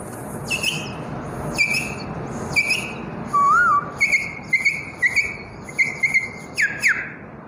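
A man whistles an imitation of a quail call, a series of short, sharp repeated chirps in a steady rhythm, loud and close, with one longer warbling note midway.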